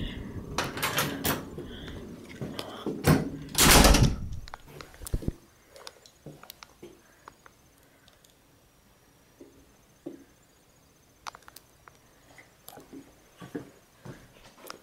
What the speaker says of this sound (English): Oh, this door's heavy.